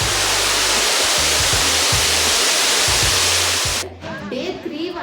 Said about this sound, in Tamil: எங்கள் ரூம் பக்கத்துலேயே ஒரு ஃபால்ஸ் இருந்தது. ஸோ அதோட சவுண்ட் விஸ்பர் ஆகிட்டே தான் இருந்தது.